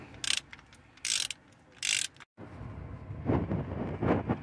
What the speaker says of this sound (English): this is the big ratchet I have here